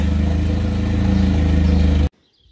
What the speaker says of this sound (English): I'll wait for that engine to die